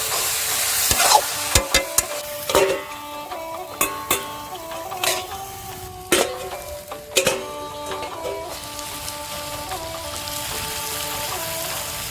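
Steady sizzling of pork from a pig's head frying in a pan, with repeated clacks and scrapes of a utensil stirring throughout, no voices.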